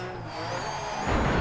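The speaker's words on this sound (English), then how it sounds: "These loud car noises." A rally car engine in the racing game DiRT 3 roars at high revs with a rising whine, swelling louder near the end, steady and close with no voices.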